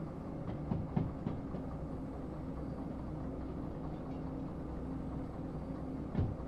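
Freight train in the Derail Valley video game rolling and braking at night, a steady low rumble with faint clicks and brief squeals near the start and end, no talk over it.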